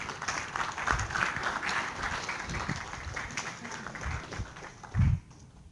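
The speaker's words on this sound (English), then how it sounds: "let's give him a round of applause" Audience applause filling a lecture hall at an engineering class, a steady wash of many hands clapping for several seconds, ending with a few louder close claps.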